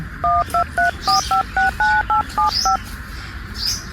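Telephone keypad tones dialed in a quick run of about a dozen short two-tone beeps, loud and close, in a Gujarati village comedy scene; faint chirps sit in the background and no one speaks during the dialing.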